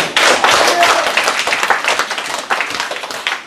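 A church audience at a Hawaii mission conference claps together in a dense, steady wave of applause that stays loud and close for the whole stretch, with no clear pauses.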